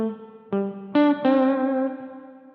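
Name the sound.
plate reverb on guitar, Donner Verb Square pedal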